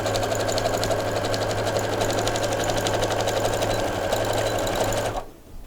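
A sewing machine sews a straight stitch on fabric for a small zippered pouch, a loud, close, continuous rapid needle drone with no pauses that winds down and cuts off near the end.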